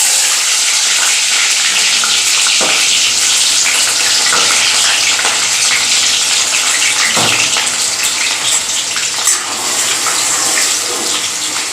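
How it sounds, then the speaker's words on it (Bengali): Chopped onion and whole spices — cinnamon, cloves and cardamom — frying in hot oil for a mutton curry, a dense, steady sizzle that stays loud throughout, with a few faint scraping knocks. "তো কুচো পেঁয়াজের সাথে এই গোটা গরম মশলাটা একটু লাল লাল করে ভেজে নেব।"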